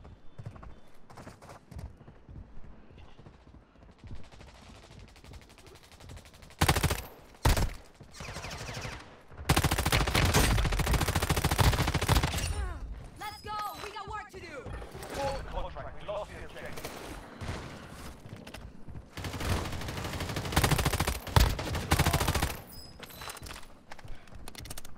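AMR 9 sniper rifle gunfire in Warzone Mobile, loud sharp shots and dense bursts of game combat in several clusters, with louder stretches of sustained firing in the middle and near the end.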